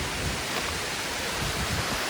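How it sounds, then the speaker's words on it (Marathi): A waterfall behind the Aai Barunda Devi temple in Virar gives a steady, dense roar of rushing water, constant and unbroken with no other sounds. "मागे हा धबधबा आहे खूप सुंदर व्ह्यू आहे"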